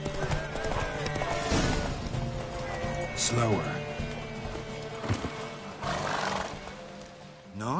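In The Witcher 3: Wild Hunt, hooves clatter in a fast galloping race rhythm while horses whinny and snort, a voice briefly speaking over the racing commotion.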